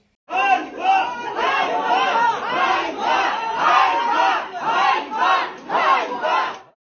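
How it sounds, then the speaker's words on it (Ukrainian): Angry wedding guests at a venue in Lviv shout in unison at military enlistment officers during a raid, a loud, close, rhythmic chant of massed voices repeating in pulses. "чути, як обурені люди вигукують військовим ганьба та виганяють представників ТЦК із закладу"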